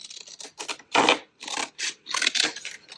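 Scissors cutting through a paper craft tag, a run of close, crisp snips and crunchy slicing strokes in quick irregular succession, with no talking.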